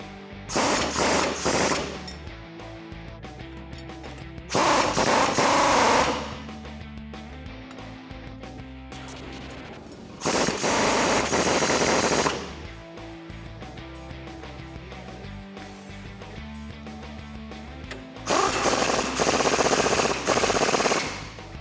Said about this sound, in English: now you can tighten down these nuts with a 22mm socket